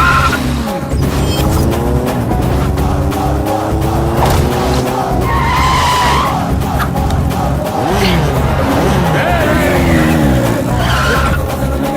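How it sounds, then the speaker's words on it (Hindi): A motorbike speeding with tyres skidding, loud squealing sweeps and engine roar layered over a dense soundtrack during a getaway from a wedding ceremony. "इतनी स्पीड में बाइक भगाई है"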